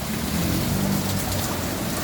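Steady rain falls around a vehicle being worked on during a transmission job, a continuous broadband wash of drops with a low rumble underneath, close and fairly loud throughout.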